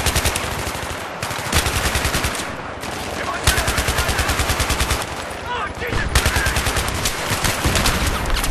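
Rapid automatic weapon fire in the Battlefield 3 video game, loud, near bursts of fast rhythmic shots broken by short pauses, with a voice talking faintly underneath.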